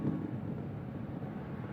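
Steady low roar of an Atlas V 541 rocket climbing past max Q as its RD-180 engine throttles back up to full thrust with solid boosters burning, a continuous distant rumble with no voices.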